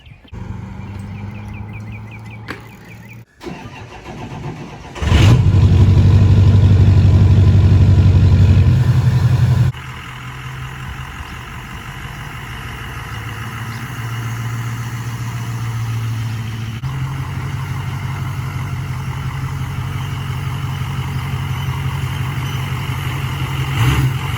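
A brand-new dirt bike engine idles, then revs to a loud, sustained roar for about five seconds as the rider goes for a wheelie, before dropping back to a steady, rumbling idle.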